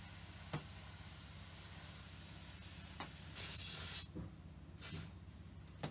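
Two short hissing spritzes of a spray bottle, the first longer than the second, against quiet background with faint taps.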